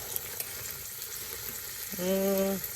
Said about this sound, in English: So I'm going to give it a good stir.